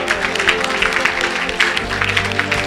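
A church congregation at a French-language gospel service applauds, with steady clapping blended with crowd voices and a sustained, lively texture throughout.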